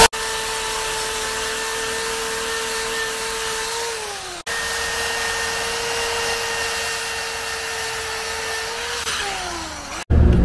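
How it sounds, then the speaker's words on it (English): A power tool stripping old paint from a vintage trailer propane stovetop whines steadily at high speed, briefly dipping in pitch twice as it cuts off and restarts, loud and close. "Nothing quite like a power tool to make a guy feel better."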